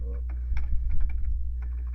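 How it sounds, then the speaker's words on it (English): Computer keyboard typing, a short burst of quick close key taps over a low background hum, no talk. "So we're going to type in,"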